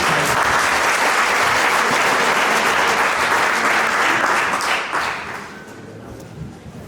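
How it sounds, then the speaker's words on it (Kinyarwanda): A wedding congregation breaks into loud, sustained applause that stays full for several seconds before tapering off into scattered claps. "Amashyi."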